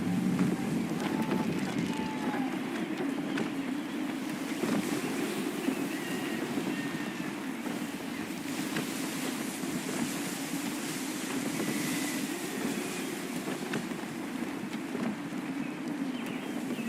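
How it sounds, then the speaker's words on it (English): Steady gusty wind roars around a sailing ship in Assassin's Creed 3, with waves washing against the hull beneath a constant windy rush that runs without a break. "Gusty winds can be difficult to manage."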